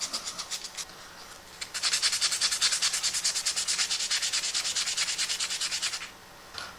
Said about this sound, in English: I'm going to real quickly rub off the outer layer to get some of that oxidation off so we can see the raw metal again